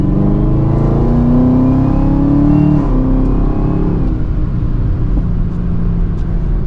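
A 2023 Chevrolet Camaro ZL1 accelerating hard in its normal exhaust setting, engine rising in a loud, sustained roar with a brief dip as it shifts, then pulling on steadily.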